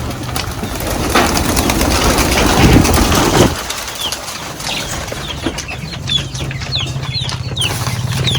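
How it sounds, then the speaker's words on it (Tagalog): Chicks peep in high, quick chirps while hens cluck nearby in a rural village, with a burst of rustling, flapping noise early on. "Ito yung mga manok kami dito sa probinsya katambayan."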